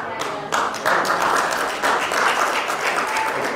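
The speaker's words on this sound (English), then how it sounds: "That was a very polite little golf clap." Church congregation gives a light, polite golf clap during a sermon, a few seconds of close, fairly loud scattered clapping with small surges, no voices over it.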